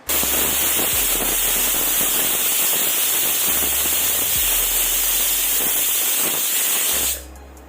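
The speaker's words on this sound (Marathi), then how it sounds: "शिट्टी होताना अजिबात कुकरच्या शिट्टीतून पाणी बाहेर येत नाही" A pressure cooker's whistle releases a steady, loud rush of hissing steam that runs for about seven seconds before cutting off abruptly, with no talking.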